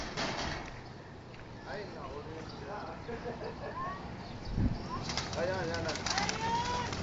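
Racing pigeons are released from a truck at a training toss in San Miguel, Bulacan, their wings flapping in bursts amid bird calls, with people talking and handling noise around them.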